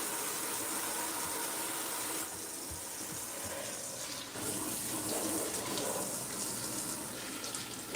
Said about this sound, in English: Let's do some sponge rinsing around here.